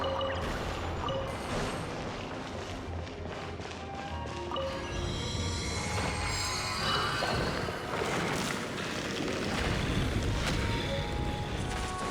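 A steady rushing of wind in the video game Genshin Impact, broad and constant through the whole stretch, with faint tonal game sounds laid over the top and no talking.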